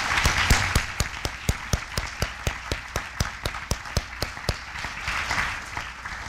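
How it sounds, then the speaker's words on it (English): Audience applause at a college of architecture and design lecture, heard as a steady, evenly spaced run of sharp claps over a low room hum, moderately loud throughout. "Could we extend a warm round of applause?"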